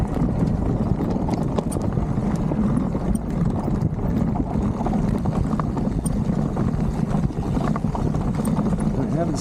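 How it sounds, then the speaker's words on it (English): A Rungu Dualie rattles from a loosely seated rear battery while riding a forest trail, a constant, dense chatter under heavy rumble and wind noise, with a rider speaking at times. "It's rattling."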